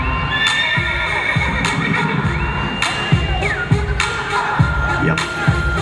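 A horse at a rodeo whinnies loudly over a steady crowd murmur, with scattered cheers, hoof clatter and background shouting mixed through the arena noise.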